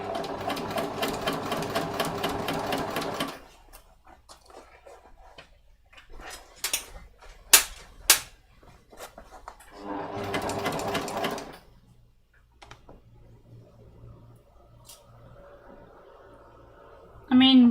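Sewing machine stitching a dragon spine smocked bag, two close bursts of rapid rhythmic needle chatter separated by quieter clicks and handling taps.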